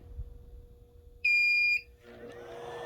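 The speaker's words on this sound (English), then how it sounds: "This inverter and the sound you hear are the capacitors trying to fill up" An overloaded 400-watt power inverter straining to run a fan gives one loud, steady high-pitched electronic beep lasting about half a second, then a softer buzzy hum follows as its capacitors fill and empty.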